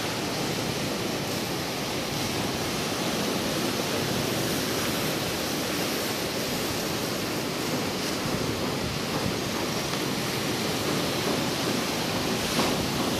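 Sea waves surge steadily at Vung Tau's back beach on a misty morning, a dense, continuous wash of surf with no pauses, loud and even throughout.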